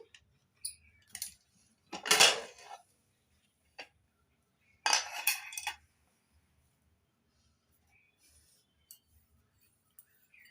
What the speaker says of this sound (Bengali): প্রেসার কুকার ঠান্ডা হয়ে গেছে। এবার প্রেসার কুকারের ঢাকনা খুলে নিচ্ছি।